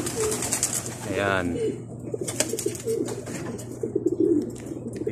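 Racing pigeons coo close by in a loft, low throaty rolling coos repeating over a background of other bird sounds, while someone speaks briefly.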